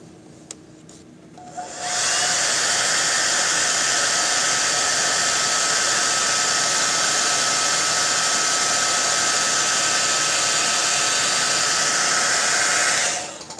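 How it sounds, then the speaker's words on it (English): A hair dryer switches on after a moment and blows loudly and steadily for about eleven seconds, drying wet paint on Rapala fishing lures, before shutting off. "I'm going to hit this one with the hairdryer."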